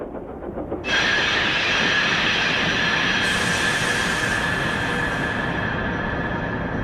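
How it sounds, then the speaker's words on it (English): Thomas the Tank Engine's brakes ring out in an echoing quarry: a sustained, loud metallic squeal that sets in abruptly after a brief low rumble and holds steady with bright tonal overtones, alone without voices. "Thomas's brakes echo."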